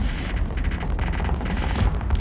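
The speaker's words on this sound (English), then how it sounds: "these Vulcan cannons are going to rip them apart" Rapid continuous rattling bursts of Vulcan cannons firing at fighters in the space combat game Starsector, a dense loud stream of automatic fire with no talking.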